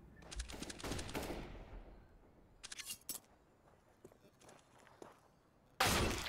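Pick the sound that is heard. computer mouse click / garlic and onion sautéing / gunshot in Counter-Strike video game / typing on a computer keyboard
gunshot in Counter-Strike video game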